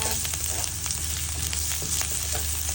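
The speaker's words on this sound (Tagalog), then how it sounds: "Gisa-gisahin din natin tong bawang guys hanggang medyo brown-brown siya." Chopped garlic sautéing in a little oil for a Filipino tuna bistek, a steady close sizzle and crackle with light stirring, no talking.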